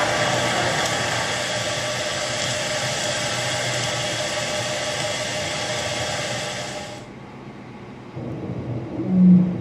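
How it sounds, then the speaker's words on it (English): A recorded baleen whale call, said to resemble a horn, plays as a broad, steady drone with harmonic layers that cuts off abruptly, followed by a quieter low rumble and a short rising tone at the end. "In a recording, a baleen whale seemed to mimic a buckhorn."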